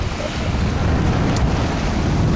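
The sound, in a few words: wind and waves at sea on the Atlantic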